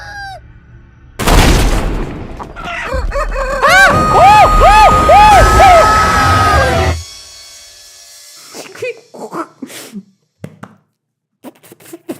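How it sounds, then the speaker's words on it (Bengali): Cartoonish chickens and chicks in a video game cluck and crow loudly after a sudden burst, a series of rising warbling calls for several seconds, then scattered quieter pecks and clicks. "মুরগির বাচ্চা অনেক ডেঞ্জারাস আছে"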